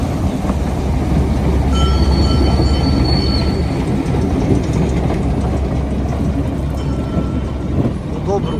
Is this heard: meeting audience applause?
no